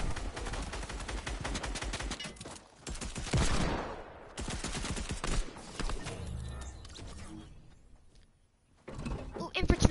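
Rapid infantry rifle fire in a console shooter, with dense, sharp repeated shots across most of the clip. Shouting players talk over and between the bursts.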